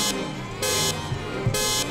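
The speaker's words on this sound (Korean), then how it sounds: "여기서 경적 3번 누르고 출발." Car horn honks in GTA5 from a Lamborghini-style Lampadati Cinquemila, sounding as a few loud, close electronic toots with gaps between them, clean and steady over game engine hum.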